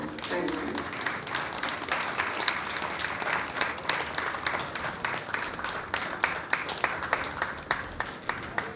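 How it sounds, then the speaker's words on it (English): Sustained audience applause at a memorial field-trip event, dense steady clapping from a large crowd that carries on evenly for the whole stretch, fairly close and full. "Please give a huge round of applause."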